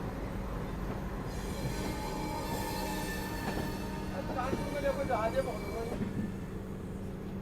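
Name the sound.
ALCO diesel locomotive shunting on pit lines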